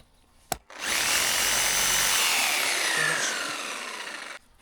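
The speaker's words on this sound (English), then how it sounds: "I'm also going to use my reciprocating saw as a vibrator" A reciprocating saw buzzes steadily as a concrete vibrator while a shed slab is poured, starting after a sharp click and running a continuous, loud, rough whine for several seconds before cutting off.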